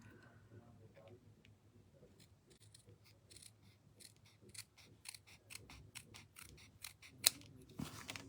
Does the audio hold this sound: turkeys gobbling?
no